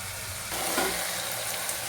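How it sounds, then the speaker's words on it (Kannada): Ginger garlic paste sizzling and frying in a pan while cooking fenugreek (methi) pulao, a steady close hiss that swells slightly after the paste goes in, with no talking. "ಈಗ ಶುಂಠಿ ಬೆಳ್ಳುಳ್ಳಿ ಪೇಸ್ಟ್ ಹಾಕ್ಕೊತಾ ಇದ್ದೀನಿ ಫ್ರೆಂಡ್ಸ್"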